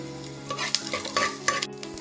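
A handful of coriander seeds roasts in a little sesame oil in a pan while being stirred, making a soft continuous sizzle and scraping rustle, close and steady, with no talking.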